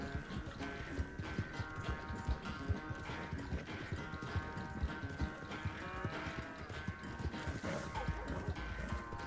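Horse galloping across swampy ground in Red Dead Redemption 2, a dense, steady run of hoofbeats under game music and ambience, loud and continuous throughout.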